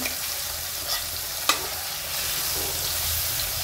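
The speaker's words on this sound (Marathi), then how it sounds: "आता मसाल्याला छान परतून घेऊ।" Spice masala for a dhaba-style drumstick curry sautéing in a pan over low gas, a steady close sizzle with a couple of sharp spatula scrapes and stirs, no talking.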